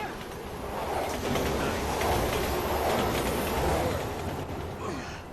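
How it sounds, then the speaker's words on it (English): In the Resident Evil 6 video game, a train roars through a tunnel as a continuous rumbling rush that builds and then fades, with rattling clatter and faint background sounds. "Train's coming!"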